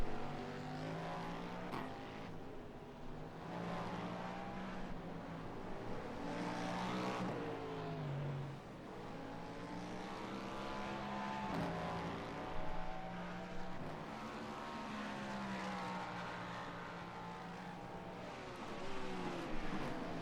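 Race car engines drone and wail in an IMSA series race in a racing video game, several cars overlapping as their pitches rise and fall with shifts. The sound is steady and moderately loud, with no talk.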